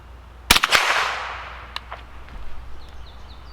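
A Winchester Wildcat .22 LR rifle firing Aguila 40-grain ammunition at an outdoor 50-yard target gives one sharp, close crack that fades into echo, followed by faint small knocks.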